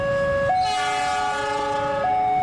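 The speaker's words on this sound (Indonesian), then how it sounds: "Suara kereta yang sangat keras yang mendekatinya itu mengagetkannya" A loud train horn blares with shifting pitch over the heavy rumble of rail cars, close and sustained.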